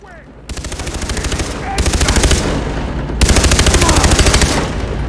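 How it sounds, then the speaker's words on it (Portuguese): Rapid automatic gunfire from the video game Far Cry 3 rattles in long sustained bursts, loud and close, with brief pauses between volleys. "Tô dando bastante tiro na perninha."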